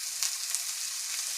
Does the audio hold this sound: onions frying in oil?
yes